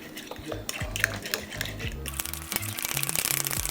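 Banana bread batter with an egg and melted butter being mixed in a bowl, heard as brisk, irregular clinks and scrapes of a utensil against the bowl, close and fairly loud, quickening toward the end.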